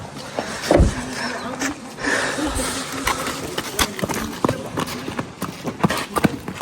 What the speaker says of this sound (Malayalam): ഇതാണ് നമ്മുടെ കുതിര.